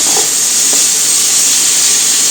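Onion and lardons fry in a pan with a loud, even hiss of sizzling and steam right up close, continuous and unbroken, with no talking.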